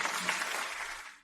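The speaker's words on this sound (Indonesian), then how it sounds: "Tepuk tangan untuknya." Brief, faint burst of applause from an audience at a fashion show, greeting a contestant's gown; the clapping thins and fades out within about a second.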